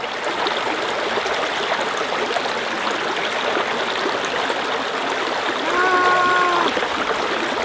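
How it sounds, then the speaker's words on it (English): A fresh mountain stream flows outdoors, a loud, continuous rushing and gurgling close by, with a brief higher-pitched vocal sound near the end. "That is some fresh mountain water there"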